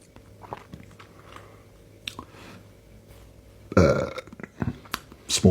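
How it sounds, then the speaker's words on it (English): One small burp after a sip of IPA beer, soft and close, set among faint mouth sounds and light rustling, with a louder burst of handling noise near the end. "Small burp."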